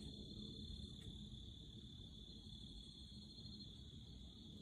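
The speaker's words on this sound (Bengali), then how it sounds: "ঝিঝি পোকার ডাক শোনা যাচ্ছে।" Crickets chirp in a jungle at night near a resort in the Dooars, a faint, steady high-pitched drone under a quiet, low background hum.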